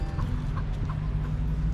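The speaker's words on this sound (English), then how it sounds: "And there's a freaking chicken here." A chicken clucks in a short series of soft calls over steady outdoor background noise on a street in Boracay, Philippines.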